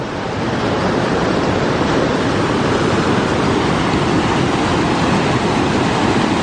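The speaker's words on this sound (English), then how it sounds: "The wind's kicking up a little. You can probably hear it." A loud, steady roar of wind buffeting the microphone beside the Sioux Falls waterfalls, a broad continuous rush with rushing water blended in, no voices.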